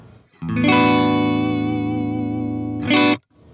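A dry signal passing through a Roland Dimension D rack chorus sounds as a full, loud sustained chord that swells in, holds steadily for a couple of seconds, then flares briefly before cutting off.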